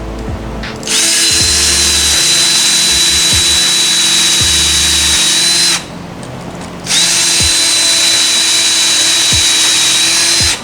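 A Ryobi cordless power drill boring holes for a floating shelf installation, loud and close, running in two long steady whirring bursts with a brief pause between them.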